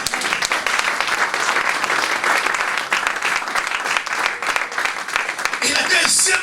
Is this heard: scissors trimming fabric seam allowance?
no